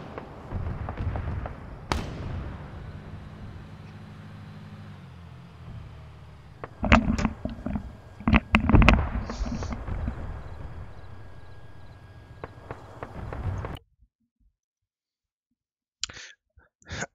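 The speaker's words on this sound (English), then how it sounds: "That mortar round took out half our squad, including the guy with the launcher." A mortar round explodes in the Arma 3 military game, a sharp loud blast followed by a rumbling tail, then several more close booms and cracks amid steady battlefield noise before the sound cuts to near silence with faint later pops.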